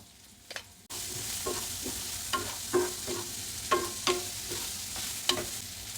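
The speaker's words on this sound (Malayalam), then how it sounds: "വെളുത്തുള്ളി, ഇഞ്ചി, ഉള്ളി നന്നായിട്ട് സോട്ട് ചെയ്യാം കേട്ടോ." Garlic, ginger and onion sauté in a pan with a steady broadband sizzle, broken by about a dozen scraping stirs of a spatula in uneven rhythm, close and moderately loud, with no talking.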